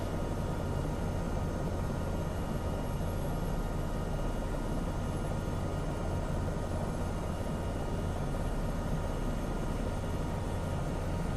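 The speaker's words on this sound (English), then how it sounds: "I'll just ease back on the collective so that I don't break the helicopter" Steady, droning helicopter rotor and engine noise from a simulated flight in Microsoft Flight Simulator 2024, an even broadband whir that holds constant throughout with no talking.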